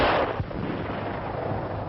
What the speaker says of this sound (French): Il faut attaquer au fusil.